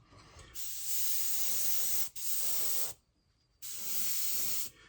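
Paasche VL5 airbrush laying down a white base coat, giving three steady, close hissing sprays separated by short pauses, the last pause nearly silent.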